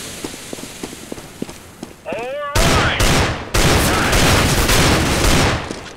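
A player in Counter-Strike: Global Offensive fires a weapon through a wall. Faint footstep-like ticks and a brief voice come first, then loud, sustained bursts of rapid gunfire fill the rest.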